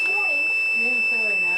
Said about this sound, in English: let's turn the multimeter on